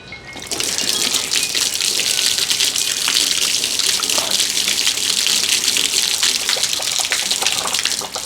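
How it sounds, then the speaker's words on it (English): Water gushes steadily out of an open valve on a steam boiler as it fills from a well pump, a loud, continuous broadband rush starting after a brief moment and holding unbroken to the end. "We'll know it's full when water starts,"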